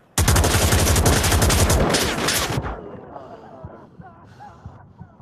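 A long burst of rapid, loud automatic gunfire rattles in the VR shooter Onward, then cuts off abruptly, leaving quieter background sounds and faint breathing.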